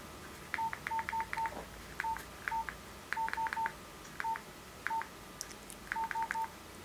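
Nokia 105 keypad tones while typing a message: short electronic beeps in quick clusters of two to four, pausing between groups, clear and close with no speech.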